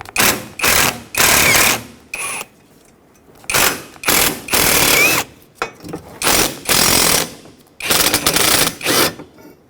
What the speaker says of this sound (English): I use a 7mm socket to remove the 3 bolts holding the antenna base onto the hinge